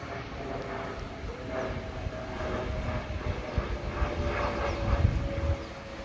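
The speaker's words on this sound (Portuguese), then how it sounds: "Olha que avião bonito!" An airplane passes over a country property on a sunny day, a steady distant engine drone with faint tonal hum, slowly swelling in loudness toward the end.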